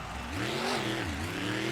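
A monster truck engine roars during a freestyle run, loud and close, its pitch rising and falling as the truck spins and launches, with no talk over it.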